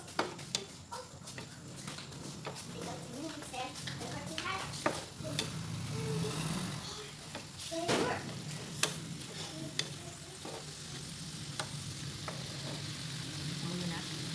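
Chicken curry sizzles in a frying pan while being stirred, with steady frying hiss and frequent scraping clicks of a utensil against the pan, close and continuous.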